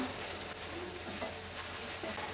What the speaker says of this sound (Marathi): चला आता आपण परतून घेऊया।